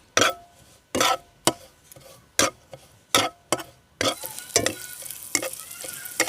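Sharp scraping stirs in a pan at a steady rhythm, then a continuous sizzle of frying in hot oil rises and keeps going.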